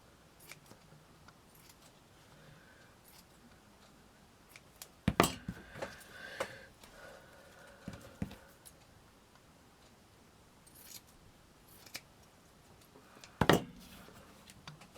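Scissors trim a chic pearl trim in a few sharp, separate snips spaced several seconds apart, close up and otherwise quiet.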